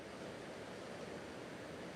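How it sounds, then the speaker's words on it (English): Ocean waves rolling onto an oceanfront shore as a steady, continuous wash of surf, soft and even throughout, with no voices. "take in that soundtrack, those waves rolling in"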